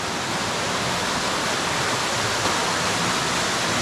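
Water pours and cascades in layered falls inside a massive borehole cave, a loud, dense, unbroken rushing hiss close to the listener, with no voices.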